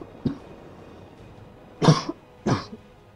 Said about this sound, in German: Das war jetzt ein kleiner Hustenanfall.